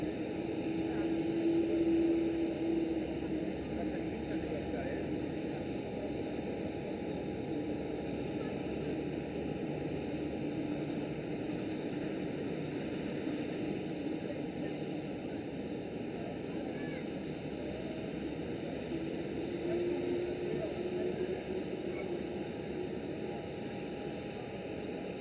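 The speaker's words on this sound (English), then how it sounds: "Slowly starting to taxi out." A Transavia airliner taxies out at Amsterdam Schiphol, its engines giving a steady, moderately loud hum and whine that holds for the whole stretch with little change, an even mechanical drone broken only by faint tonal shifts.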